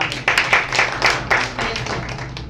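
A small church congregation claps in a loose burst of separate, uneven hand claps, fairly close and without talk.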